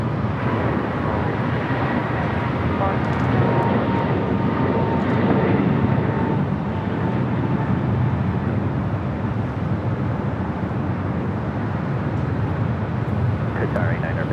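A heavy Airbus A330 on final approach to land on runway 24 right at LAX: a continuous, moderately loud jet rumble holding steady throughout, with people talking over it.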